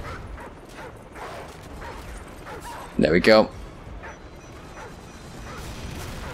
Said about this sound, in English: Oh, another dog.